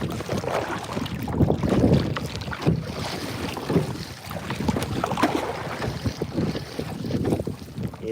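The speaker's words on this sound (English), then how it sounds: "the wind is sort of starting to pick up" Strong wind buffeting the microphone on a fishing boat at sea as the breeze picks up and a swell rolls in, a continuous broadband rumble with gusty surges and faint water sounds beneath, no talking.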